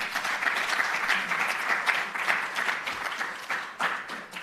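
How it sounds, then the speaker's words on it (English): Audience applause at a university innovation event honouring African universities, a dense steady wash of many hands clapping close by and moderately loud, sustained throughout without talk. "Please give them all a round of applause."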